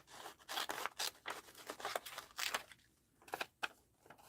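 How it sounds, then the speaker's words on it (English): Scissors cutting paper from a magazine at close range, a series of crisp snips and slicing rasps with faint paper crinkles between cuts. "Let's cut that as a journal spot."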